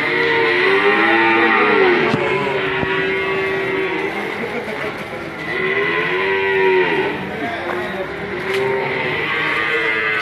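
Beef cattle moo repeatedly, long low bellowing calls overlapping one another, with steady farmyard background noise throughout.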